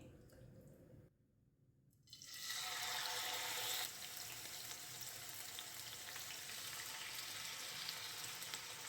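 Two chicken pieces for Goan cafreal drop into hot oil in a thick-bottomed pan, setting off a sudden, continuous close sizzle that holds steady after a brief quiet moment.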